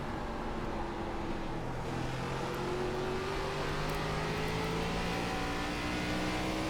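Race car engine in iRacing at North Wilkesboro, an ARCA stock car revving steadily and loudly with rising and falling pitch as it laps, close and alone with no talk.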